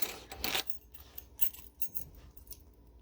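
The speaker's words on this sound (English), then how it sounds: "I have keys in my hand." Keys jangle in a hand, a few bright metallic rattles close up, strongest near the start and then lighter shakes, with no talking.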